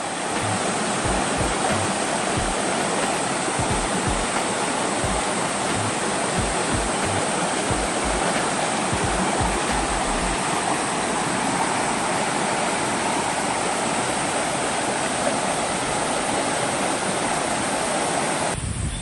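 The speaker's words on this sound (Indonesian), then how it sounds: "Ada sungai mengalir di sepanjang jalur menuju tiket masuk." Rushing water roars steadily and loudly throughout, a constant broadband flow from a river beside the path to Coban Rondo waterfall in Pujon, Malang, with no voices.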